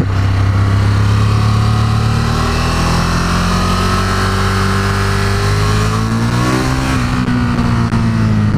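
A Ducati Monster 1200 S motorcycle accelerates hard during a test ride, its loud engine note climbing steadily in pitch over several seconds before a brief dip and renewed pull, with no talking.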